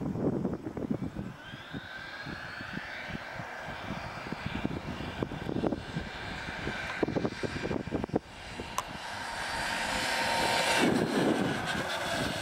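A Traxxas E-Maxx RC truck with a brushed electric motor drives outdoors, giving off a steady high whine that stays loud and fairly close throughout, without talk.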